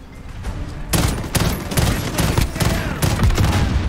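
FR 5.56 FAMAS fired in 3-round bursts during a domination match at St Petrograd, loud close shots in clustered bursts after a quiet start, repeating steadily through the clip.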